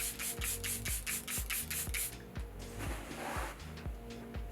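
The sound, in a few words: Charlotte Tilbury setting spray being spritzed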